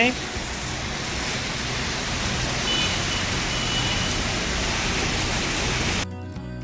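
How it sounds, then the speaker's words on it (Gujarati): Steady rain falls outdoors, a dense even hiss that holds for several seconds before cutting off sharply near the end. "વરસાદ ચાલુ છે"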